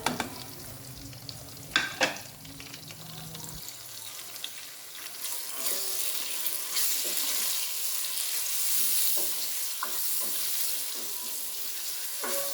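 Spices, garlic-ginger-red chilli paste and tomato go into a hot pan for a chicken and brinjal dish; early clatter and stirring give way to a steady, rising hiss of frying that continues alone.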